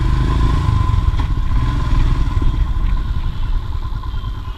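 Royal Enfield Himalayan motorcycle engine running steadily after a service, with a loud, low, thumping rumble and some mechanical clatter, close and continuous with no speech.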